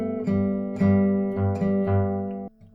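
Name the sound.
guitar playing a cadence tag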